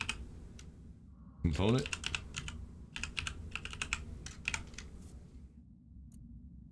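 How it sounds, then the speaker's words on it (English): A loud computer keyboard clatters with quick bursts of typing, sharp clustered keystrokes broken by short pauses, under occasional talk. "I just realized just how loud this fucking keyboard is"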